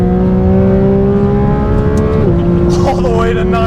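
A Porsche GT RS engine, a GT3 RS or GT4 RS, screams loud and close as it climbs in pitch toward high RPM, then the pitch drops sharply on an upshift, and a voice speaks over the engine.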